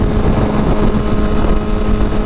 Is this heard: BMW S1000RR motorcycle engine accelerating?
yes